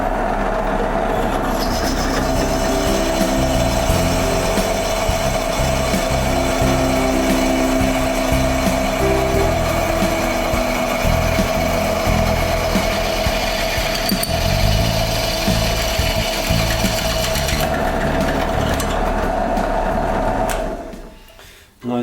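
A drill bores holes through knife tangs in a workshop, giving a steady, loud, continuous whine with a grinding rattle that runs without pause for about twenty seconds before cutting out at the end.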